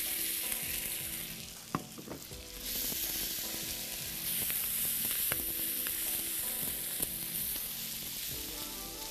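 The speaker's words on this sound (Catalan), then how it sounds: "I tot això ho saltarem una miqueta més." Sofrito sautés with toasted rice in a pan for a fish and seafood paella, a steady close hiss of frying with scattered clicks and scrapes of stirring, no one speaking.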